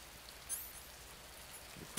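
Soft rain patters in Metal Gear Solid 3, a faint continuous hiss of drizzle with a brief brighter flicker near the start and a small knock at the end.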